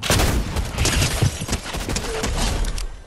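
Pistol gunfire in the video game Fortnite: a quick succession of close, punchy shots, dense and continuous at first, then easing into scattered cracks over a low rumble.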